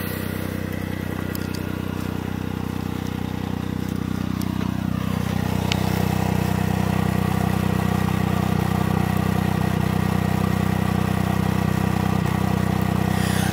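A 1991 Suzuki Cappuccino EA11R turbo with an aftermarket exhaust runs steadily nearby, a continuous, even engine drone with a low mechanical hum and no sharp revs.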